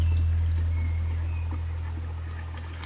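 Water glugs steadily out of a jerrycan into a toilet bowl to flush it, a continuous close pour lasting a few seconds with no voices.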